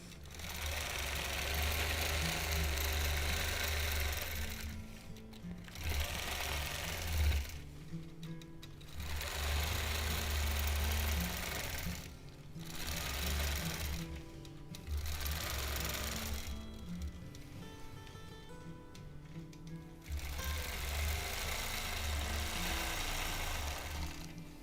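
A sewing machine quilting a crosshatch pattern with ruler work runs in long, steady bursts of rapid mechanical stitching, stopping briefly between lines before starting again, loud and close throughout.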